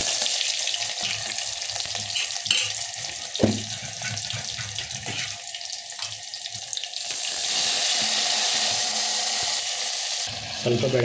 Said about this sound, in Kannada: ಎಣ್ಣೆ ಕಾದೈತಿ ಚಟಪಟ ಅಂತೇಳಿ ಒಗ್ಗರಣೆ ಚೊರ ಅನಿಸ್ಬಿಟ್ರೆ ಸಾರು ರೆಡಿ ಆಗಿಬಿಡುತ್ತೆ ರೀ